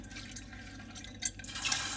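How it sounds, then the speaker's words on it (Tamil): Washed lentils (toor dal) slide into a pot of hot water for sambar, giving soft liquid splashes and drips close by, quiet and brief, with a slightly louder plop near the end. "இப்போ தண்ணி சூடாகிட்டு நம்ம வாஷ் பண்ண பருப்பை வந்து சேர்த்துடலாம்"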